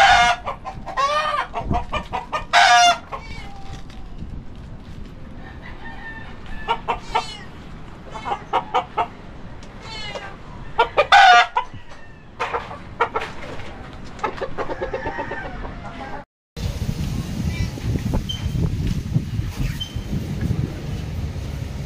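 Freshly bathed, wet chickens cluck and squawk in bursts close by, with a busy, uneven rhythm; the sound shifts to a muffled rumble near the end.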